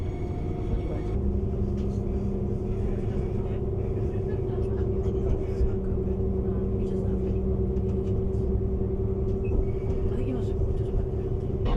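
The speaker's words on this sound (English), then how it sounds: "Right, so the train has switched directions" Inside a passenger train carriage on a service to Blackpool North near New Pudsey, a steady low rumble and droning hum of the running train holds constant and unbroken throughout.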